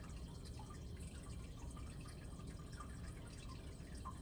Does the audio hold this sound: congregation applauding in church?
no